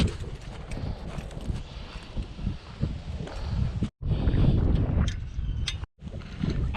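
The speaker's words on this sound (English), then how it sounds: "why bother fishing in this kind of wind?" Strong gusting wind buffets an outdoor fishing spot at a Texas pond, a loud, continuous roar and rumble with rustling and brief dropouts, no voices.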